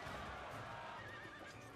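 Horses whinny faintly in the Total War strategy game, a thin high neigh rising over a dense, steady wash of background battle-field ambience.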